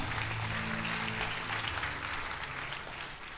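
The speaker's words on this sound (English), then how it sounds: "please give her a big round of applause for new Sharon Rose Master, Gine Kim Chung." Audience applause at a promotion ceremony, a dense steady wash of clapping throughout, with faint hall hum and low tonal music underneath.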